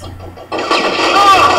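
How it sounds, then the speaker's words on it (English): A grenade explosion in a shooter video game bursts in abruptly after a brief quiet, then a loud, sustained roaring rumble carries through to the end. "Grenade! Get grenaded, son."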